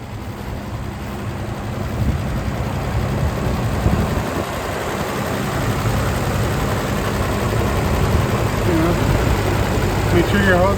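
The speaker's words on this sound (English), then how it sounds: "to have them sit here and run with the hoods open" Several tractor engines idle together with hoods open during a winter warm-up, a steady low rumble that holds at an even level throughout, with a little faint background noise.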